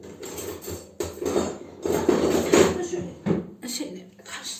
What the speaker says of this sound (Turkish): Kaşıkla karıştırayım.